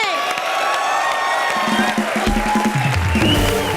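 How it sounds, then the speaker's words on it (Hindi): Studio audience of a Hindi TV comedy show cheers, whoops and claps in a loud, sustained crowd roar, with shouting voices rising over it and a musical sting entering near the end. "एक बार जोरदार तालियां फितूर के लिए।"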